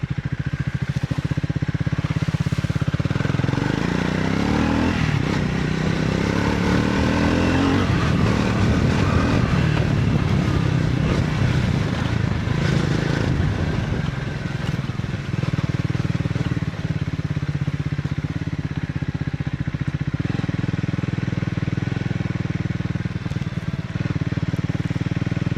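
A Triumph Speed 400 motorcycle rides off-road, its engine droning steadily and close, with rising and falling revs and occasional clatter over rough ground, continuous throughout.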